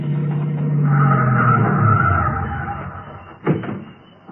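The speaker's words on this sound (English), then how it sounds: "Here comes a couple of cars." Cars arrive as a radio drama sound effect: an engine note rises and sweeps past loudly for a few seconds, then a sharp thump like a car door, followed by quieter settling sound.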